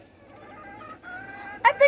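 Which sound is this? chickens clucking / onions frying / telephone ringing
chickens clucking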